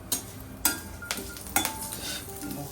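Food stirred in a pan, a sharp spoon scrape or clack roughly every half second over a low background sizzle, close and moderately loud.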